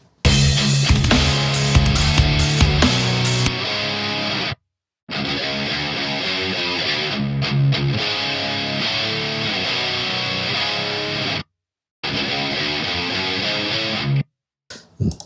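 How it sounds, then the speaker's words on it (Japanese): A heavily distorted metal guitar riff plays through a Rectifier cabinet impulse response from the DYNAX Metal Bundle, with chugging palm-muted notes broken by a few short silent gaps. "まずは、メタルバンドルのやつのレクチファイアのキャビです。"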